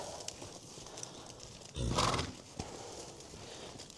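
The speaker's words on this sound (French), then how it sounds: "Je lance mon cheval au trot." A horse trotting on a lunge line gives faint hoof clip-clops, with one louder burst near the middle that may be a snort or whinny, over a quiet outdoor background.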